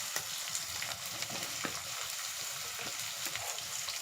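Onion and drumstick pieces fry with other ingredients in a pan, giving a dense, steady sizzle with scattered pops and crackles, near and continuous with no talking.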